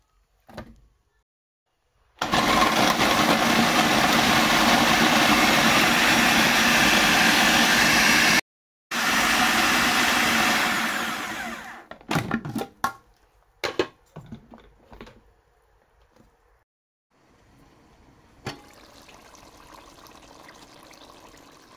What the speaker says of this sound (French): Je vais aussi les passer au mixeur pour les broyer en petits dés.